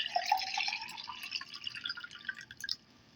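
Mint lemonade poured into a glass gives a close, steady trickle with small splashing drips for nearly three seconds, then stops abruptly.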